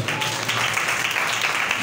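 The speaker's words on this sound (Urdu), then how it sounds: "ذرا زوردار تالیاں بجائیں۔" Church congregation applauding during a sermon, a dense, steady wash of clapping that stays loud and even for about two seconds.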